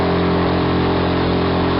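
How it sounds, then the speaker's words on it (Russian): A Suzuki DF 6 boat outboard motor drones steadily at an even pitch throughout, close and fairly loud, with no talking. "Проверяем мотор."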